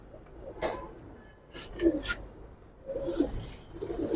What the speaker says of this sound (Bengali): ভাই এই যে আমার এক জোড়া বাঘা সবুজ গোলা কবুতর